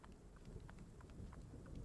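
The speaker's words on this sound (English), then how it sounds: "I hear thunder." Steady rain hiss with low rumbling thunder underneath, a continuous storm bed laid in as an effect behind a tabletop game session, with no voices.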